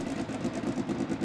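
Nissan race car engine in the racing sim Automobilista 2, a steady mid-pitched drone with a pulsing throb, idling or revving at a constant level for about a second with no talking.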